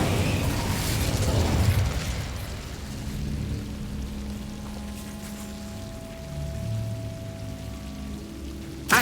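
An Incendio fire spell is cast in Hogwarts Legacy, a whooshing, crackling burst of flame that swells loudly at first, then settles into a steady hissing roar with a low hum beneath it.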